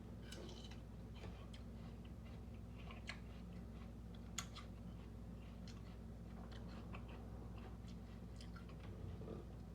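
Someone bites into and chews Asian pears, Hosui and 20th Century varieties, giving faint crisp crunches and moist chewing clicks at an irregular pace over a steady low background hum.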